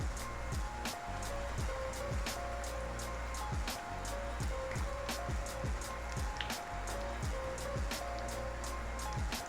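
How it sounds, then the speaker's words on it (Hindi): Phulki batter deep-fries in very hot oil, a constant bubbling crackle dotted with rapid sharp pops throughout, loud and close. "और अब यहाँ पे मैं इसको हिला लेती हूँ और गोल्डन होने तक अच्छी तरह फ्राई कर लेती हूँ।"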